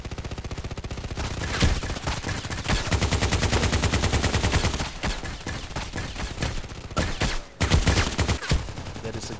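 Machine gun fire in a sniper video game, with dense rapid bursts of automatic shots running nearly continuously and loudly, broken by a few short pauses, with no talking.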